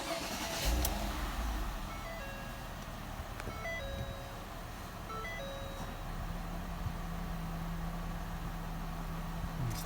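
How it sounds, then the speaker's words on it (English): A 2010 Ford Fusion engine cranks and fires with a short low burst near the start, then settles into a quiet idle while a series of high electronic chime tones sounds intermittently. "Okay, so I'm in the car, about to fire it up."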